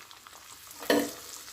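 Chicken samosas fry in oil, a faint low sizzle followed by a brief louder splash and hiss as one goes into the pan, close and short.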